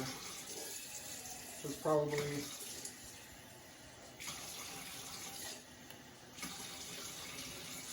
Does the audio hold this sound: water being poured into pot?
yes